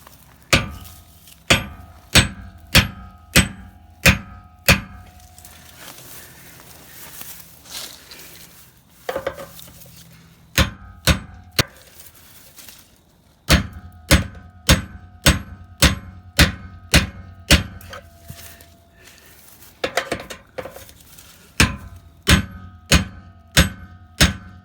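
A hammer strikes a chisel to pry a light off a Boston Whaler boat trailer, with close, sharp metallic blows coming in quick bursts of six to eight evenly spaced hits, separated by short pauses.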